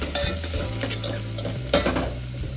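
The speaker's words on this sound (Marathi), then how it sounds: "थोडीशी कोथिंबीर टाकतो मी यामध्ये, थोडी फ्राय होईल" Chopped coriander stirred into hot oil and spices for Kolhapuri tambda rassa, a spicy red mutton curry, with a steady sizzle and frying crackle under the scrape of a stirring spoon throughout.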